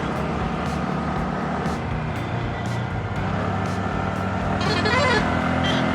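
Vehicle engines rumble steadily on a busy road between Kerala and Tamil Nadu, with a horn honking toward the end amid continuous traffic noise.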